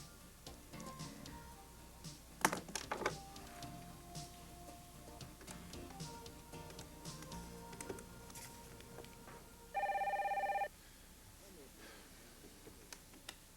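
A single electronic telephone ring sounds once for about a second partway through a quiet office scene from 1992, steady and clear above faint background noise, with speech nearby.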